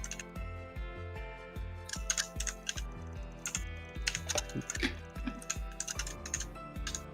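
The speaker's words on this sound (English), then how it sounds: "I hear every keystroke that you're typing right now" Keystrokes on a computer keyboard during a gaming stream, close and crisp, with quick irregular bursts of clicks and heavier thumps from larger keys, typed on with no talk.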